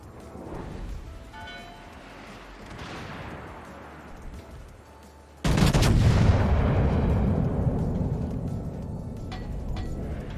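Heavy battleship main guns in the World of Warships game, twelve guns on the US battleship carrier Kearsarge, fire in one sudden loud boom that rolls into a long, low rumble over faint game background sounds.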